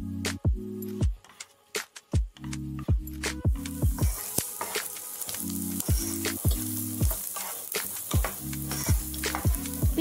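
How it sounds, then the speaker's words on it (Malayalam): Chopped onions fry in hot oil in a pan for a brinjal Arabic-style dish, a bright sizzle broken by repeated scraping stirs and bursts of spluttering, close and fairly quiet, with no talk. "ആ പാനിൽ ഓയിൽ ചൂടായി വരുമ്പോൾ അരിഞ്ഞെടുത്ത സവാള ഒന്ന് ആഡ് ചെയ്തു കൊടുക്കാം"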